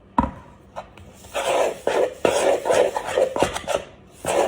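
Cheese straw dough being stirred in a bowl, with a run of scraping, knocking strokes of a utensil against the bowl in an uneven rhythm, close up and fairly loud.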